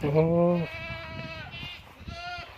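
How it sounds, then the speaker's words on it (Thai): A goat bleats loudly and close by, followed by a couple of fainter, wavering bleats from other goats, with a person talking underneath. "ชินแล้วครับกับเสียงแพะ"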